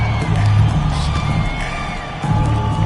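A home crowd at a summer league basketball game cheers and whoops loudly in a dense, continuous roar of voices, with a few shouts rising above the noise.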